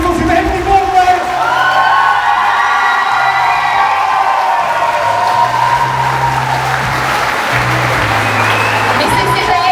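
A crowd bursts into applause and cheering at an engagement during a St. Stephen's party, sustained clapping with whoops and shouts from a lively indoor audience, while voices talk over it.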